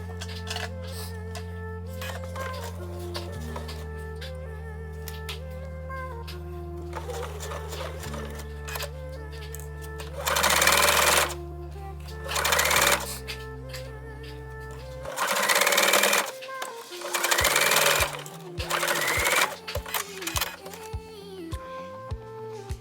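Sewing machine stitching ribbing onto an upcycled sweatshirt, a steady mechanical hum with shifting motor pitch, broken by several louder bursts of fast stitching near the end.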